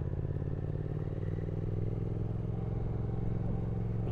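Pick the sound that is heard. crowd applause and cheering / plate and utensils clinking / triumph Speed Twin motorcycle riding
triumph Speed Twin motorcycle riding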